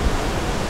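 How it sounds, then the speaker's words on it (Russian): Big surf on a wild beach, heard as a dense, steady roar of crashing waves with no distinct breaks, fairly loud and close, with no voices. "Волны тут, конечно, большие."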